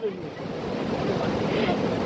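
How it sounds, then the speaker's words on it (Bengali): Dam water rushes near the Bhutan border as a broad, steady roar with wind buffeting the microphone, close and continuous, building slightly over the clip. "কি জলের ফোর্স এখানটা একটুখানি দেখো"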